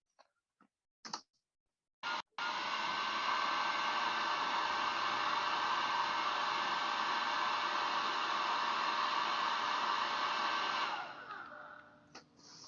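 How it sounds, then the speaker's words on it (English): A hair dryer blowing on an orange roars steadily for about nine seconds after a few short clicks and bumps, then cuts off, leaving faint handling noises. "there is a person using a hairdryer to dry an orange"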